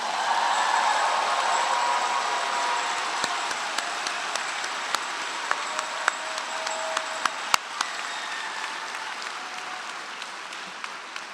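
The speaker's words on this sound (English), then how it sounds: "let's give all these bachelor's recipients a hearty round of applause" Applause at a college of natural resources graduation ceremony for bachelor's degree recipients: a sustained, steady wash of clapping from a large crowd, with a few sharper individual claps standing out as it slowly fades.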